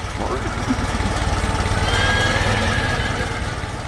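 Two horses in a 3D construction animation neigh and whinny while riding along behind a blue tractor, the calls sitting over a steady low engine rumble and a dense music bed, with some speech mixed in.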